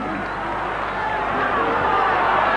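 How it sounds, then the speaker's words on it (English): Rugby league crowd at a 1991 Canterbury versus Illawarra match roars for a penalty: a broad, sustained wash of distant crowd noise that swells slightly, with a commentator's voice over it. "crowd roaring for a penalty"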